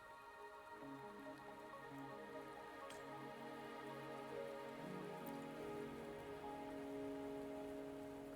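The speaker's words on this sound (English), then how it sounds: "Are you trapped here by the rain?" Rain falls steadily in the game Wuthering Waves, a soft continuous patter on surfaces beneath sustained musical tones, fairly faint and without speech.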